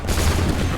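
A musket volley fired by a line of soldiers in Assassin's Creed 3, a brief loud crackling burst of overlapping shots, close and dense.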